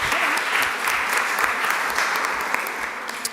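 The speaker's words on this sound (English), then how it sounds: "Clap it up for her." An audience at a city council meeting applauds a student varsity basketball player, dense, continuous clapping filling the room at a steady loudness, with a few sharper claps standing out.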